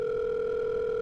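A telephone dial tone, steady and unbroken, sounding close and clear on its own for the whole moment.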